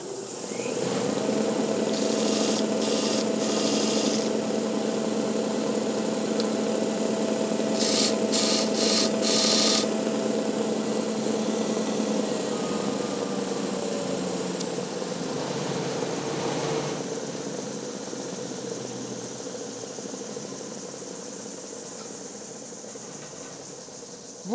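A workshop belt and disc sander runs with a steady motor hum and droning whir, with short bursts of rasping as wood is pressed against the abrasive. Later the motor winds down slowly.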